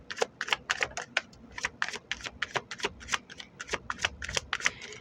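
An Osho Zen tarot deck being shuffled close up, a rapid series of sharp papery card clicks and riffles in an uneven rhythm, with no voices.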